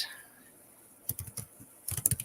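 Typing on a computer keyboard, two short bursts of rapid close-up key clicks separated by a pause, crisp and fairly quiet against a still background.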